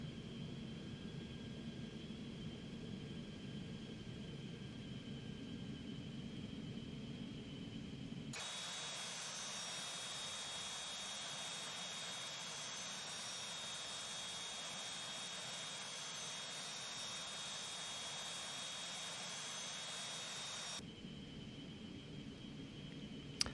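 Twin jet engines of a Cessna Citation 510 Mustang in the X-Plane 11 flight simulator, a steady turbine whine and rush that swells louder as throttle is added for taxi, then settles back to a lower hum.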